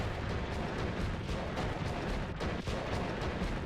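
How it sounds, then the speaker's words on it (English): Explosions in the Noita video game come as a continuous, rumbling barrage of booming blasts with dense crackling debris, heavy and unbroken throughout the short span, with one brief dip in the middle. "Couple explosions. Just a couple."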